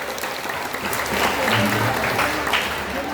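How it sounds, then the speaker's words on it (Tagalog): Audience at a priest's first Mass (canta misa) in church breaking into applause, a loud, dense burst of clapping that swells slightly midway. "Napapalakpakan sa nato."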